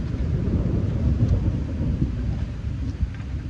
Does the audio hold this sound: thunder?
yes